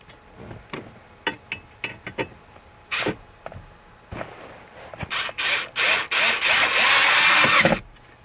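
A power drill drives screws into the dashboard cover of a Chevy Impala, with several short bursts early on and then a run of longer, louder whirring pulses close by. Nobody speaks.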